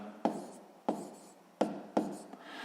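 Pen strokes jotting numbers on paper for a sixth-grade maths sum, four distinct scratchy taps spaced about half a second apart, close and quiet with no talking.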